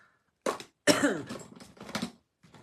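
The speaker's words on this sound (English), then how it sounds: "Sorry, you guys, with my cough again." A few short, dry coughs come in quick bursts, fairly quiet and close, separated by brief pauses.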